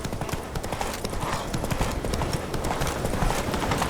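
Roach, the horse in The Witcher 3, gallops with a fast, continuous clip-clop of hooves that stays close and loud throughout, with no talking.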